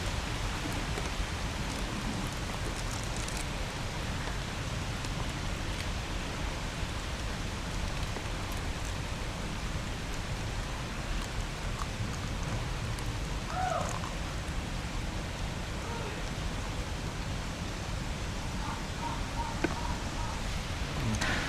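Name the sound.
light drizzle of rain under a tamarind tree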